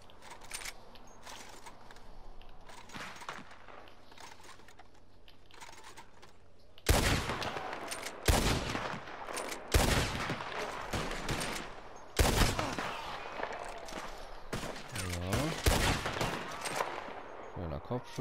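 Gunfire in Red Dead Redemption 2 Online during a bandit hideout shootout in a canyon maze: a quiet stretch of background sound, then a run of loud, sharp shots in bursts and single cracks, some echoing.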